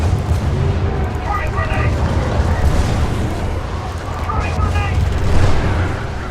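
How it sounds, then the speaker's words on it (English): Airstrike missiles rain down and explode in the video game Helldivers, a continuous, dense rumble of blasts and booms, loud and close, with no distinct pauses. "It's just continuous missiles coming down from the air."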